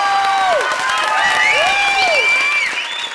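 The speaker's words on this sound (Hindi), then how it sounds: "जोरदार तालियां तीनों हीरोज के लिए।" A television comedy show's studio audience gives loud applause and cheers for three heroes, with warbling whistle-like tones gliding over the sustained clapping.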